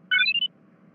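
A short cluster of high electronic beeps, a rising-and-falling chirpy warning tone lasting under half a second over a quiet background hum.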